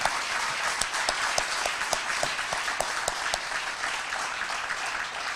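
Eighth-grade graduation audience applauding the teachers at a ceremony, a steady dense wash of many hands clapping throughout, with a few sharper claps standing out near the front.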